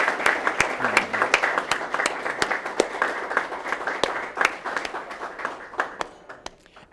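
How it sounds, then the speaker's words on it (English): Applause from a crowd at a makerspace grand opening, dense overlapping claps that hold steady for several seconds and then thin out toward the end, heard from within the room. "So let's have a round of applause to start with."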